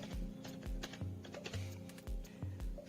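Keys on a computer keyboard are tapped in a quick, close series of clicks while an email address is entered, each keystroke crisp and distinct against a low background hum, with no speech.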